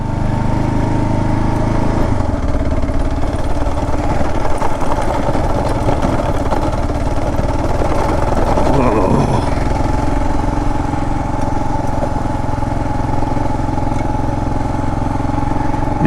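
A Kawasaki KLR650 motorcycle is ridden on dirt, its single-cylinder engine droning loud and close with a steady, rough mechanical hum that rises briefly in pitch midway before settling back.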